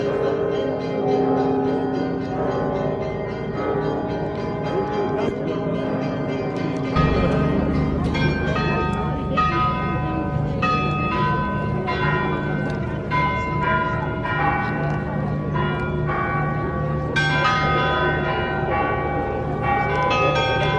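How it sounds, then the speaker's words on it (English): Church bells toll at a midnight mass in Sofia, Bulgaria, with several bells ringing loudly and continuously in overlapping, irregular strokes and a sustained resonant hum, heard up close throughout. "as the bells tolled all around us"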